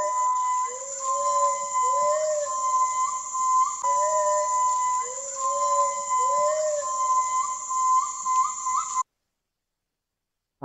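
A Mentawai Islands gibbon, or owa, gives loud, clear whistling calls, rising hoots repeated in rhythmic phrases over a steady high hum, with no voices, before ending abruptly.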